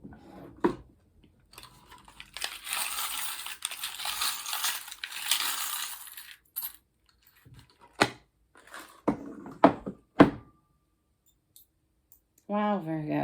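Small charms being handled and drawn, with sharp metallic clicks and clinks, a stretch of rustling and shuffling, then scattered taps; a voice speaks briefly near the end.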